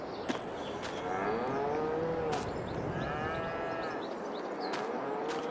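Cows moo in a barn in Farming Simulator 22, several long drawn-out lows spread across the stretch over a steady background hum, with no talking.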